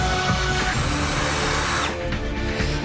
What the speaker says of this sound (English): I could use this to drill a hole